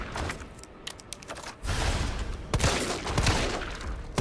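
Rapid gunfire aimed at zombies in Resident Evil 3, a dense volley of loud, close shots running almost continuously after a brief lighter opening.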